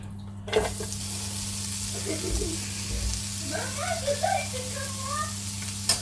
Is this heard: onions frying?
yes